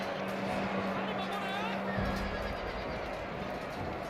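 Horses neigh and whinny in a Total War: Shogun 2 battle, a clear whinny over a hubbub of crowd and clip-clopping hooves, with a voice talking underneath.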